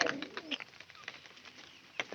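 Quiet, soft cooing of a white pigeon with a few faint bird chirps, ending on a sharper flutter.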